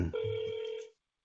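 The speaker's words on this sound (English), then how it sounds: "Can you hear the ringing? I can hear the ringing." A single electronic telephone ring, a steady tone lasting nearly a second, close and clear, then silence.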